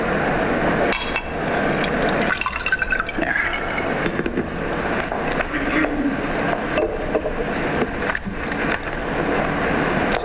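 Water poured at a panel table, a liquid fill with gushing, bubbling texture running steadily for several seconds, fairly close and loud, with a few knocks and handling sounds and no talk.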